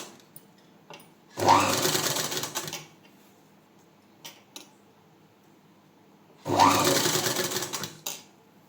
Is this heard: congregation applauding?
no